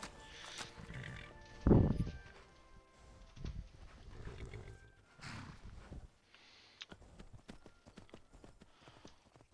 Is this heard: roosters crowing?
no